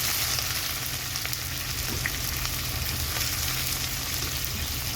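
Onions fry in a pan for a mutton curry cooked with a kilo of mutton, giving a constant, even hiss and sizzle at moderate level with no talking.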